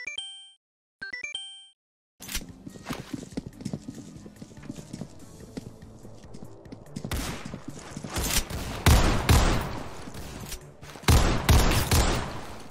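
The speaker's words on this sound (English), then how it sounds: "Here's a clip of him using a deagle to lock onto a player," Deagle pistol shots in the Roblox game Criminality, loud cracks and bursts rising in the second half over busy game noise with footstep-like clatter, after a brief opening of chiming menu tones.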